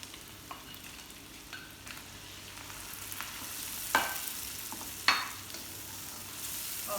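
Sliced mushrooms sizzle and fry in a pan with cooked garlic, a steady hiss throughout with two sharper spatula scrapes or stirs partway, no voices.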